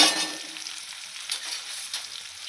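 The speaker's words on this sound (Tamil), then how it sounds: "நல்லா வெங்காயத்தை நல்லா பொன்னரமாக வதக்கிறோம்." Chopped onions fry in hot oil for drumstick sambar, a steady close sizzle with soft stirring scrapes, loudest at the start and then settling to a gentle hiss, with no one talking.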